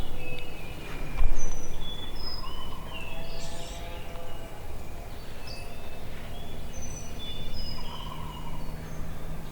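Several wild turkey gobbles ring out at a distance during a turkey hunt in Tennessee, over steady outdoor background noise, with chirping birds scattered around them.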